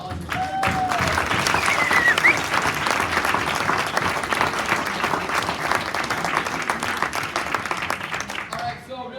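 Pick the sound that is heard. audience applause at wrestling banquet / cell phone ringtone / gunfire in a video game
audience applause at wrestling banquet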